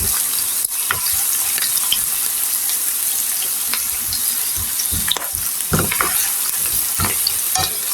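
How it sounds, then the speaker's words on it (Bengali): Onion and garlic frying in oil sizzle loudly and steadily, with a spoon stirring through them and short scraping bursts along the way, close by with no talk. "এখন আমি পেঁয়াজটি ভালো করে ব্রাউন করে ভেজে নিব"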